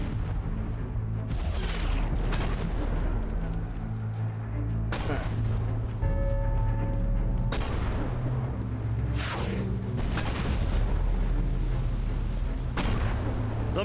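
Mortar firing and exploding in Fable III: several booming blasts with whooshes recur at irregular intervals over a rumbling battle bed, with voices talking between them.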